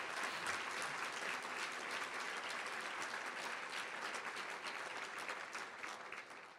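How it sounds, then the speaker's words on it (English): An audience at the 2012 Mitchell Institute fall gala dinner in a Marriott ballroom claps steadily, a dense, even wash of applause that holds its level throughout without speech. "Please give all of them a round of applause."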